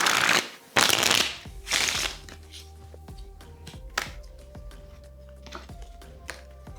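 Playing cards riffle-shuffled up close: three loud rustling bursts in quick succession, followed by softer clicks and taps as the deck is squared and handled.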